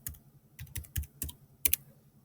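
Keystrokes on a computer keyboard, typed in short irregular bursts of clicks with brief pauses, close and clear with no voices.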